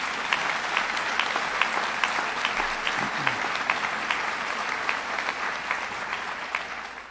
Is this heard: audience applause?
yes